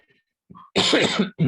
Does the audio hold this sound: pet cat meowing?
no